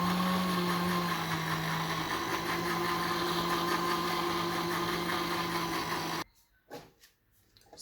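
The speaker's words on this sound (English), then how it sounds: "Let's turn the blender on." A kitchen blender purees cooked greens into baby food, a loud, steady motor whine with a constant hum that runs for about six seconds before cutting off abruptly, followed by faint handling noises.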